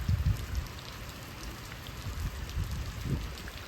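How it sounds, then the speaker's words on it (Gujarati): Heavy rain pours down steadily, a dense, close hiss of drops hammering a surface, with low rumbling thuds underneath. "જો અત્યારે વરસાદ એટલો આવ્યો"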